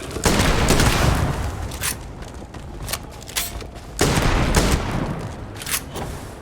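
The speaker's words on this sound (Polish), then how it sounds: "Jeszcze wszędzie eksplozje, nawet nie wiem od czego." Explosions and weapon blasts from the sci-fi video game Starfield come in dense, loud bursts, with a big blast near the start and another around four seconds, over continuous rumbling combat noise and no talking.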